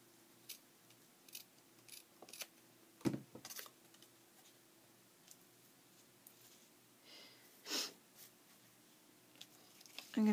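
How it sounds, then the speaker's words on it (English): Scissors snip through decorative book pages in a few short, crisp cuts, close and quiet over a low hum, with a brief voice heard in between. "Let's cut this."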